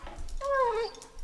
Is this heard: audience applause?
no